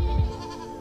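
Goats kept for eco-grazing give a single short, fairly faint bleat near the start, followed by quiet background.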